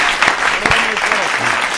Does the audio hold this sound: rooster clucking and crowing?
no